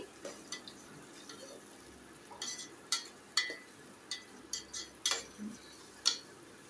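A spatula stirs sliced onions frying toward golden in a pan for egg and carrot dum biryani, making irregular metallic scrapes and sharp taps against the pan, about a dozen, over a faint low sizzle, quiet and close.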